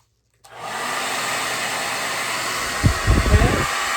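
A handheld hair dryer blows over a fresh acrylic pour with resin, switching on after a brief silence into a loud, steady whooshing roar, with a few low bumps of handling near the end.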